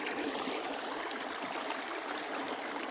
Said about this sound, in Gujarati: પાણી ચાલુ કરી દીધું છે.